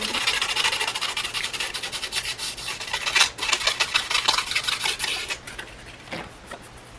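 Sandpaper rubs back and forth in close, quick rasping strokes, an uneven rhythmic scratching that swells and fades, with no voices.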